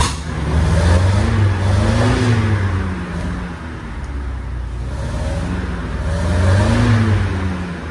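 A 1978 Toyota Crown car's exhaust rumbling loudly up close, the engine swelling in two revs with a steady idle drone between them.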